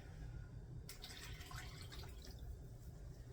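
Two cups of water pour into a cooking pot for vegetarian chili mac, a quiet, steady splashing stream that starts about a second in and continues to the end.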